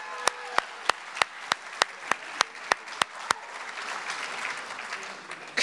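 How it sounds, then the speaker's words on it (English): At a West Point Class of 2024 Engineers Post Night, a string of sharp, evenly spaced single claps gives way to a broad wash of crowd applause, with cheering mixed in. "Give them a round of applause."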